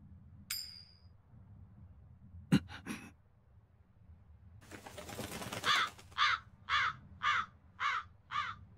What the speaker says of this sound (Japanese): カラスがコインを加えていっちゃったよ。